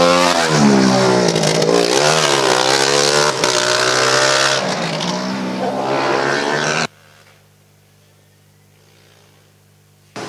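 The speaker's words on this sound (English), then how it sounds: "everybody to hear the sound of the UAS Darmstadt car" A UAS Darmstadt Formula Student race car's engine roars loudly and close during an endurance event, its pitch rising and falling through gear changes for several seconds before cutting off abruptly to a low residual hum.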